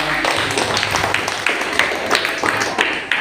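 An audience applauds after a talk, with scattered, uneven claps that are moderately loud. A low hum runs underneath the clapping.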